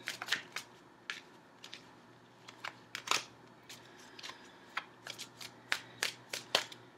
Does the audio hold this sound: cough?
no